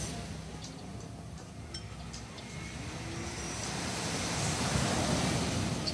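Ocean waves wash onto a beach at night in Marbella, a continuous broadband roar of surf that swells gradually louder, heard from close by with no voices.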